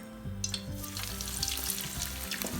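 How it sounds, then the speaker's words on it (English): Potato wedges fry in about half an inch of oil in a pan, a steady close sizzle with crackling spits and a few low clunks of the pan or utensil. "I also fill this pan with about ½ inch of oil, just the bottom. And we're gonna fry these potatoes"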